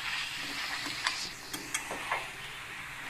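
A potato and pea curry stirred in a sizzling pan, with the utensil scraping in a few separate strokes over a steady frying hiss.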